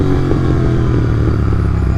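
A Royal Enfield GT650 twin idles close by after a hard start on a weak battery, its engine a loud, continuous, steady rumble with a rapid throbbing beat and no voices.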